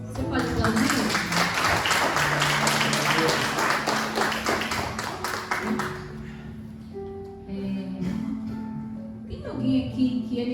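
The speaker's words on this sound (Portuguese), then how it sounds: "Você pode aplaudir?" A church congregation at a Sunday worship service applauds, dense rapid clapping for several seconds that fades out, followed by quieter room sounds with a voice and faint tones.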